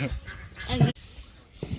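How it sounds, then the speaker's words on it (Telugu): Guinea fowl and turkeys call in short, harsh, honking bursts close by, two or three loud cries with a brief gap between them. "ఇక్కడ గిన్నె కోళ్ళు టర్కీలు"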